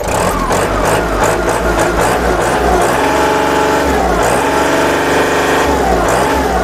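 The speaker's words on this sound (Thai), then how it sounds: "อันนี้ก็จะเป็นเครื่องยนต์ไดเรกครับ เครื่องนิ่มๆครับ" Kubota L3608 tractor with a direct-injection diesel engine running smoothly, a steady close mechanical chug with rhythmic pulsing and a slight rise in pitch partway through.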